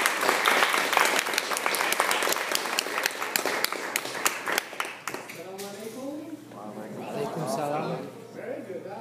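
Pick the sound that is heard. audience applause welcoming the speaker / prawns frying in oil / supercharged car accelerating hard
audience applause welcoming the speaker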